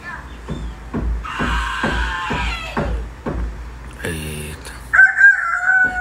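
A person imitates a rooster crowing on a reality-show set, with a loud voiced cock-a-doodle-doo call rising in bursts amid background thumping and chatter.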